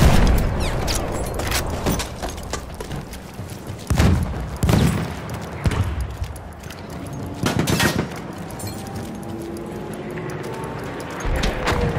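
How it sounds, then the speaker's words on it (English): Machine gun fire in a World War battle game set in Belgium, heard as sharp bursts and scattered shots at irregular intervals, some loud and close, amid general combat noise with little talk. "Spotted a machine gun! Machine gun, look right!"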